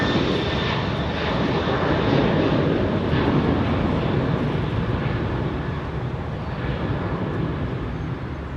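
A large airliner takes off from runway 27R at London Heathrow, its engines producing a loud, steady, deep roar that holds throughout and eases slightly toward the end.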